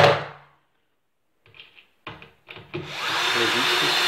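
Power drill driving screws into a wardrobe during dressing assembly, a few short whirring bursts after a pause, close and moderately loud, with a longer drill run at the end.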